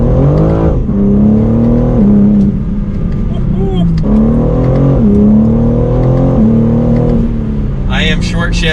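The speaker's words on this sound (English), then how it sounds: "But down to second gear, we're going to give it another slight acceleration." A manual 2022 BMW M3 sedan's engine pulls in second gear with a gentle acceleration, its steady note rising and falling through the revs beneath continuous talking.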